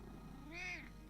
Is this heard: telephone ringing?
no